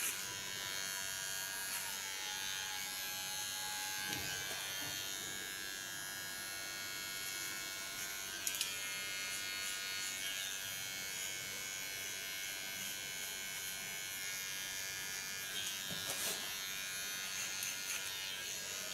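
A heavy full-aluminium electric hair clipper cuts a pixie haircut, giving a steady, close mechanical buzz that runs unbroken throughout, with a few faint clicks.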